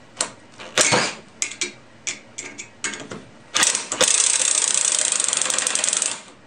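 Faulty Bosch impact driver driving a 2.5-inch screw: several short bursts of rattling, clicking mechanism noise, then a long, loud, steady hammering buzz that runs for about two seconds before cutting off.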